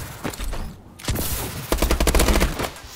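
Rapid bursts of automatic gunfire from a gun in a video game, loud and close, one short burst, a brief gap, then a longer sustained volley.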